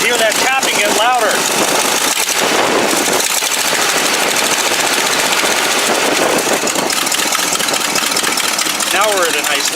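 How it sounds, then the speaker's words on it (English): A Buick engine with a leaking exhaust manifold gasket revs loudly up close, a rough hammering, tapping tick riding over the steady roar, with a voice speaking over it. "when I rev it, you'll get like a hammering sound. You'll hear that tapping get louder"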